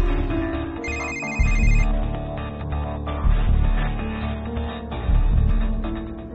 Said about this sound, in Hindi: राधा जी, हमें बहुत खुशी हुई आपने कम से कम हमारा फोन तो उठाया